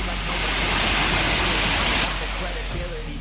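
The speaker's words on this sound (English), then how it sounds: "I'm here at Craig Hall Waterfall, the second stop on our North Coast trip today." Craig Hall Waterfall on Tobago's North Coast, flowing full, a loud, close, constant roaring rush of falling water with a low rumble beneath, steady throughout.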